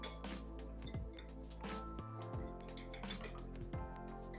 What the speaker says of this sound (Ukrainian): Тепер беру яйця, додаю спеції, перчик чорний мелений і збиваю виделкою